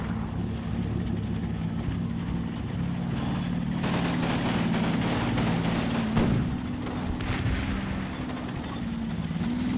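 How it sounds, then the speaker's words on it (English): Distant rifle fire in the wartime strategy game Combat Mission, scattered crackling shots rising over a steady low engine-like rumble that runs throughout. "I hear more rifle fire from inside Elsdorf."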